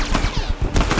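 Rapid, loud gunfire bursts out in a close-range firefight in The Last of Us Factions, a short, dense volley of overlapping shots.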